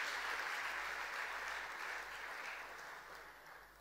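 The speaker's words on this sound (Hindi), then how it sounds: "तालियों से स्वागत" Sustained crowd applause greets a UPSC topper being honoured by Chief Minister Shivraj Singh Chouhan in Bhopal, a dense steady clapping that fades slightly toward the end with no voices over it.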